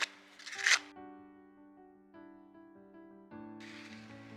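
A quick riffle of tarot cards shuffling, followed by soft sustained musical tones, then another brief burst of card shuffling near the end.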